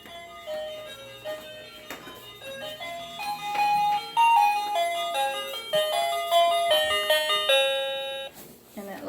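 A wireless doorbell plays an ice cream truck melody, a bright sequence of chiming tones that rises and falls in a clear, close tune for several seconds, then stops.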